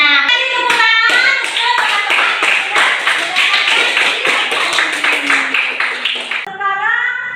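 A classroom of children claps hands together in a loud, close burst of rhythmic clapping, with sung or chanted voices at the start and end around it.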